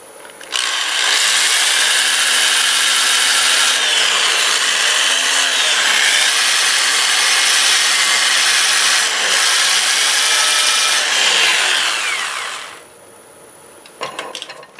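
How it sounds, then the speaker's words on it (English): Wood burl turning on a lathe run in reverse at 425 RPM while sandpaper rubs against it, giving a loud, continuous abrasive roar for about twelve seconds that then fades to the motor's quieter hum and a few clicks. "I'll sand this with the lathe running at reverse"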